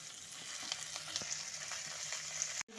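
Chopped, washed Malabar spinach frying in a pan for a Bengali prawn dish: a steady, soft sizzling hiss throughout, close but fairly quiet, with faint clinks and a brief cutoff near the end.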